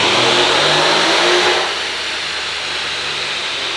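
A 2018 Ford F-150 V8 4x4 pickup with a 10-speed transmission and Whipple supercharger roars at full throttle on a dyno, a loud sustained howl with hiss that drops off sharply as the revs fall and settle to a lower drone.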